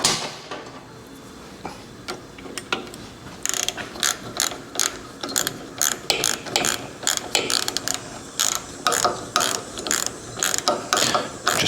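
A ratchet tightening motor mount bolts on a 1974 Harley-Davidson XLCH chopper engine, heard close up as bursts of rapid clicking strokes with short pauses between them, louder and more regular in the second half, no speech.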